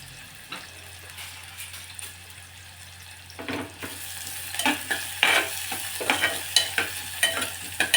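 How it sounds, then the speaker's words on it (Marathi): Chopped onion dropped into hot oil for a tempering for a spicy crab curry: the sizzle rises suddenly partway through and keeps crackling, with stirring scrapes from a spatula, loud and close, and no talking. "एक कांदा टाकायचा आहे फोडणीला"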